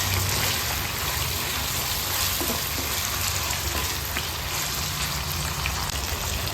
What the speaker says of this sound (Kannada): ಟೊಮೆಟೊ ಸ್ವಲ್ಪ ಸಾಫ್ಟ್ ಆದ ಮೇಲೆ ಆಲೂಗೆಡ್ಡೆ ಹಾಕ್ಕೊಂಡು ಫ್ರೈ ಮಾಡಿಕೊಂಡ್ರೆ ಆಯಿತು